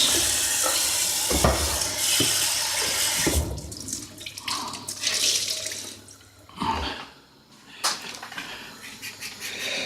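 Running tap water splashing into a kitchen sink as hands are washed after handling raw sausages, a continuous close rush that shifts and breaks with the hand movements, no talking.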